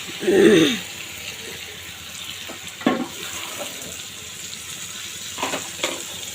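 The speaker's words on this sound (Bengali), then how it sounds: "একটু সামান্য একটু পানি দিলাম" Water is poured into a pan of simmering chicken curry, starting with a short splash and then easing into a quieter, steady trickle and soft sizzle, with a few faint clinks later on.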